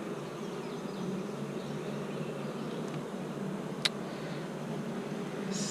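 Honey bees drone in a steady, close buzz during a beehive inspection, a continuous swarm hum with one brief sharp tick partway through.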